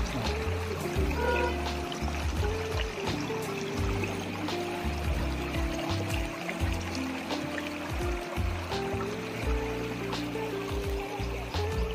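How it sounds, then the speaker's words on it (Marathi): Water pours and splashes steadily over chicken being washed at a riverside, with low sloshing and gurgling throughout, fairly close and continuous with no talking. "इथे बाबांनी चिकनची भाजी धुण्यास सुरुवात केलेली आहे"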